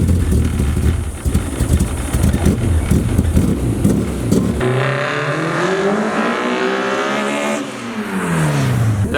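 A K20-powered race car accelerates hard through the gears, its engine screaming to a high pitch, dropping briefly on an upshift, then climbing again in a rising, loud whine.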